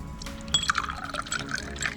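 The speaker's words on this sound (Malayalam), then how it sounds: "അപ്പം നമ്മൾ ഒഴിക്കുവാണ് നമ്മുടെ 3 ഗ്ലാസ്സിലേക്ക്." Lemon juice being poured into three glasses packed with ice, a short close liquid pour with splashing and trickling, no voices over it.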